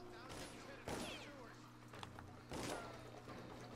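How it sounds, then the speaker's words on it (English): Gunfire in the Dishonored video game during the escape from Coldridge Prison: two loud bursts about a second and a half apart over steady game ambience, with a person talking throughout. "Oh god, they're shooting at me."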